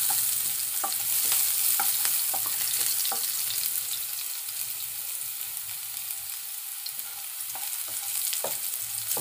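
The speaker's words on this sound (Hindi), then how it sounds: "लहसुन को हम 1 मिनट भूनेंगे।" Plenty of garlic frying in a pan for a garlic potato bharta, a loud, steady sizzle near the mic with scattered sharp pops and the scrape of stirring, with no voices.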